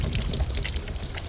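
Water draining out of a water jug shot through, a continuous splashing, trickling pour, fairly loud and close, without any talk.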